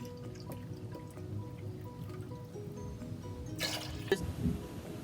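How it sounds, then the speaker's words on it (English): Two cups of coconut milk poured into peas for Jamaican rice and peas in a Dutch pot, a low liquid trickle with drips and a brief splashier gush near the end, fairly quiet and without talk. "So I'm gonna put 2 cups of this coconut milk into the peas."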